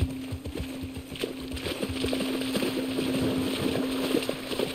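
Horse hooves clip-clop at an easy walking pace in The Last of Us Part II on PS5, a steady run of close hoof strikes over wind and a sustained background tone.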